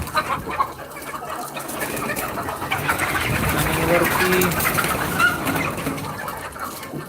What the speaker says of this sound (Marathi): बऱ्याचशा कोंबड्या आता आलेल्या आहेत तिकडे